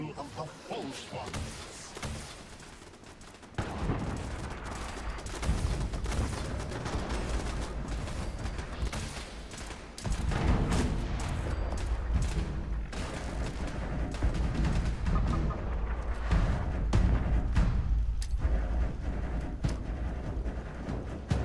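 Explosions and gunfire in the video game Fallout 76, with heavy booms and rattling shots in a dense, continuous barrage that swells louder partway through.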